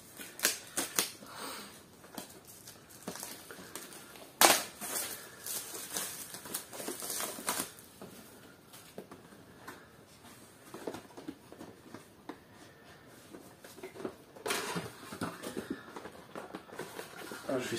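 A collector's edition Switch game box from Limited Run being unpacked: soft crinkling, tapping and rustling of packaging, close and fairly quiet, in scattered bursts with one sharper snap.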